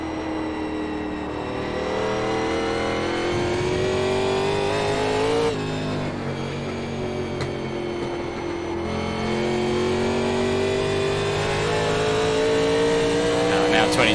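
A NASCAR Legends race car in iRacing at Lime Rock Park, its engine droning loud and steady, pitch rising and dipping as the throttle is worked, with a brief shift around the middle and a voice speaking over it.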